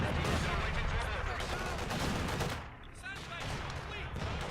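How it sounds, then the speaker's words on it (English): Rapid gunfire from the World War II strategy game Company of Heroes, a Wehrmacht versus Soviet match, crackles in dense bursts throughout, briefly dropping away near the middle before resuming. "where the heck am I seeing the gunfire from?"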